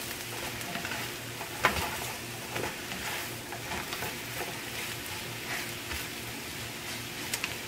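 Corn tortilla pieces frying in oil, a dense, constant sizzle with occasional soft scrapes and knocks as they are stirred around the pan.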